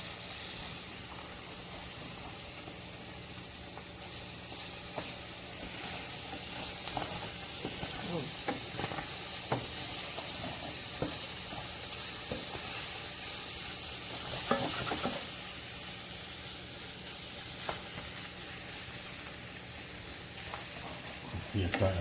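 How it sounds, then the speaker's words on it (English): Cuban picadillo simmering in a pan, giving a steady soft sizzle and hiss with occasional crackles and pops, close and moderately quiet throughout. "Just let that simmer and bring out those flavors real good."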